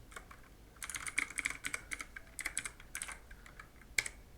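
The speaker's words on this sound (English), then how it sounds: "Now just type here your Pinterest" Typing on a computer keyboard, close and quiet, a rapid uneven patter of key clicks in short bursts with brief pauses between them.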